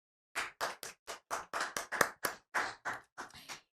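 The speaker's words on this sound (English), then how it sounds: "It's a virtual clap." A single person claps about a dozen times in a steady rhythm, close and clear, during an online prize announcement at a virtual leadership summit.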